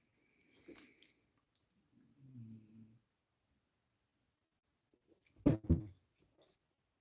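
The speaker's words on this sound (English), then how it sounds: "Man, that dog snores." A dog snores in short bursts separated by quiet pauses: a low rumbling snore, then a louder, closer snort with rough breathy texture.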